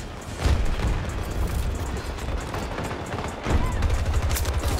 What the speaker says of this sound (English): I'm dying to the nades